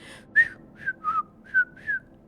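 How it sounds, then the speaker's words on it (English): A person whistles five short, separate notes with small pitch slides, close and fairly quiet against a soft background hiss. "Can you whistle?"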